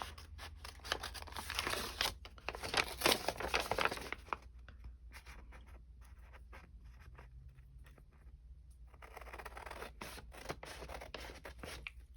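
Scissors snip and slide through hand-dyed index cards, a run of close, crisp rustling cuts with a quieter pause in the middle before the cutting resumes, no voices.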